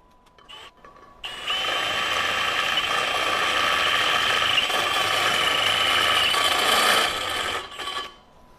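A Hercules cobalt step drill bit bores a hole without a pilot hole. The drill grinds steadily and loudly for about six seconds after a brief start, then winds down, with no speech.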